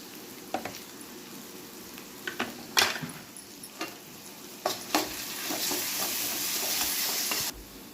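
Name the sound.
stirring turmeric into frying tomatoes for aloo khurma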